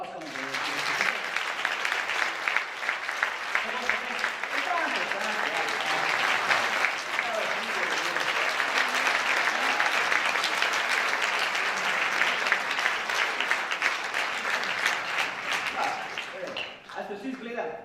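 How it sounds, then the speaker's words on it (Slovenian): Applause from a concert hall audience for the Big Band Bled at a festival-hall show, steady and full for about seventeen seconds before it tapers off at the end. "lahko malo zaploskamo"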